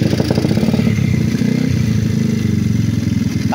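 Small 132cc motorcycle engine with a 54mm block and stock stroke, revving hard up close in a loud, buzzing, pulsing drone that holds steady at high revs for a few seconds.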